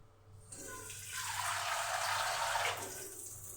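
Water poured into a cooking pot in a home kitchen: a steady, rushing splash that starts after a brief pause, swells and holds for about two seconds, then tapers off, fairly close.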